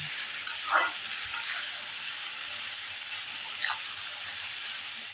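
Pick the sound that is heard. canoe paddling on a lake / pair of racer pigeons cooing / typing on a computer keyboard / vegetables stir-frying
vegetables stir-frying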